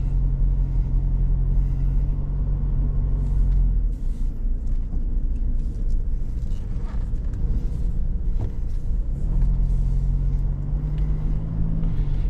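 Car engine pulling hard under acceleration during an overtake in eco mode, a steady loud low drone with rising engine hum near the start and end, continuous road rumble throughout.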